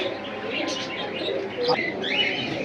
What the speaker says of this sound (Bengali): এটা কি কবুতর তারা ভাই জিরা গলা কবুতর